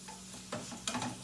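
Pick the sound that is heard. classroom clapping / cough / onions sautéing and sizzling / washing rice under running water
onions sautéing and sizzling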